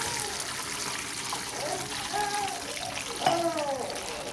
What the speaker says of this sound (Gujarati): તો 1 ગ્લાસ નાખીશું પાણી